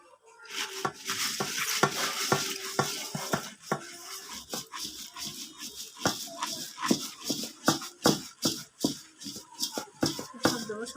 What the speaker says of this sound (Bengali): আমি এখন খইয়ের মধ্যে ঢেলে দেব